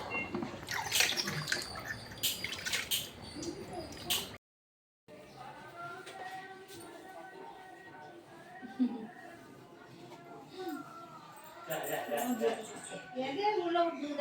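Oil lamps being washed under running water during a Karthigai Deepam festival at home, a steady splash with clinks of metal, mostly in the last ten seconds after a brief gap, with people talking.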